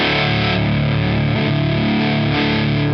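A lap steel guitar played through new Mr Glyn's pickups sounds with heavy distortion, holding thick sustained chords and slides that ring continuously and loudly without pause.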